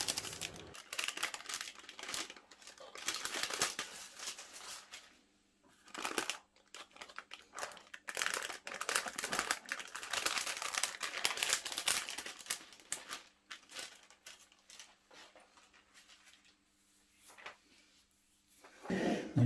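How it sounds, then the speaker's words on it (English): Baking paper peeled off a freshly baked Madeira chocolate cake, a continuous close crinkling and tearing rustle that runs in bursts with short quiet gaps. "Remove the paper."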